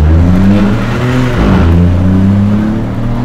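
Loud engine revving from a Stage 1 tuned 2021 Opel Corsa 1.2 PureTech, its pitch climbing and dropping as the throttle is blipped, close and continuous with no talking.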